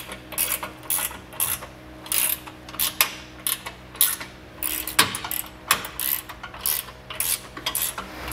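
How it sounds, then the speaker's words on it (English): Wrenches clicking and clanking as bolts on a Draw-Tite Max-Frame trailer hitch receiver are snugged down on a 2014 Jeep Wrangler, with repeated ratcheting bursts and metallic taps in an uneven rhythm, close and moderately loud, with no talking. "we can take a couple of the wrenches and snug everything down"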